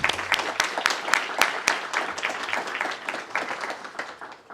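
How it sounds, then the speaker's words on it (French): A small gathering at a meeting on housing and poor living conditions claps warmly, distinct individual hand claps close by forming an uneven burst that gradually thins and fades over a few seconds. "les applaudir chaleureusement."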